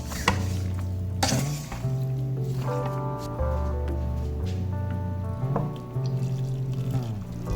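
Seasoned food is stirred in a cooking pot before water is added, making soft scraping and squelching close by, with a faint sizzle underneath and no talking.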